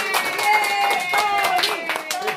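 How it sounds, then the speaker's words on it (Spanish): A crowd claps and cheers for a man named Tony, steady applause blended with rising voices and chanting over the whole short stretch. "un aplauso para Tony"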